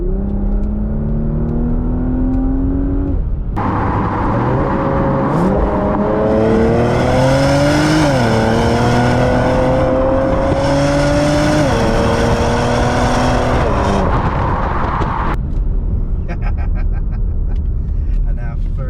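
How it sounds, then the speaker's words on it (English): A Porsche Macan Turbo SUV in Sports Plus mode with the exhaust open revs hard, rising in stepped pitch through several quick PDK gear shifts under loud cabin rumble, then drops away, with someone talking over parts of it. "Straight away you hear the engine downshift a couple of gears, the exhaust opens up"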